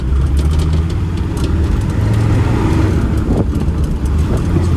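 Rebuilt, turbocharged Land Rover Defender 90 engine running, a loud steady low rumble close by with a constant drone and no speech.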